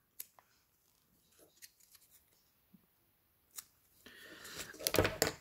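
Scissors trimming material to length on a fly-tying hook for a simple mouse pattern, heard as a few soft close snips and handling rustles, then a louder crisp cutting and rustling burst at the end.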